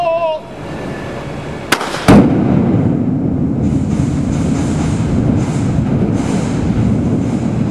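Controlled blasting at a quarry: two sharp sudden cracks in quick succession, followed by a sustained deep rumbling roar that lingers for several seconds, heard from a distance.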